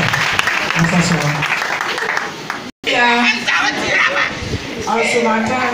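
A church congregation claps and cheers loudly and continuously, with raised voices calling out over dense applause; the sound cuts out briefly midway, then resumes.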